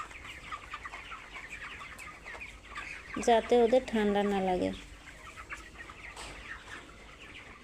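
Twenty-five-day-old poultry chickens on a farm in winter, kept on thick litter, give a short burst of loud clucking calls in the middle, while a person talks over faint background bird chatter.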